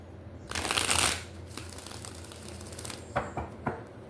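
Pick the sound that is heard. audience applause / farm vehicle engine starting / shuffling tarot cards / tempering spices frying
shuffling tarot cards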